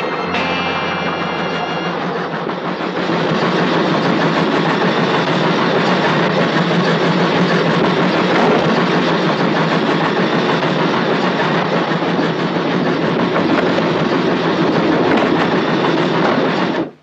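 A moving train rumbles loudly and steadily, a close, dense roar with faint rhythmic clatter from the rails, building after a quieter opening and continuing unbroken until it cuts off at the end.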